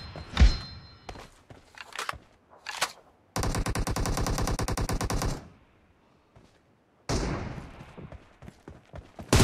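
Gunfire in a PUBG Mobile team deathmatch: a few single sharp shots, then a long, loud, evenly paced automatic burst of about two seconds, a pause, and a final echoing shot.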